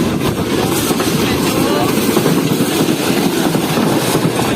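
Karakoram Express rolling into Gadar railway station on the Karachi to Lahore run: a steady, loud rumble of moving rail cars with clattering wheels and a broad roar, continuous throughout and mixed with faint voices.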